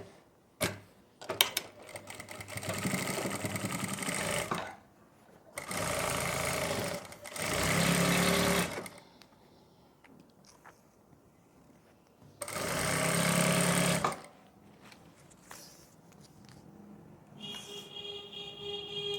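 Electric sewing machine stitching a kurti suit, running in several loud bursts of a few seconds each with quiet pauses between, fabric handling and small clicks filling the gaps.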